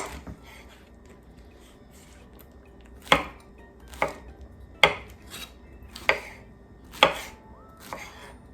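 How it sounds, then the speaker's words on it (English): A knife chops pineapple into chunks on a cutting board, giving about six sharp, separate knocks spaced roughly a second apart over a quiet room background, close and fairly loud, with no talking. "And then cut it into whatever chunks or bite-sized pieces that I need"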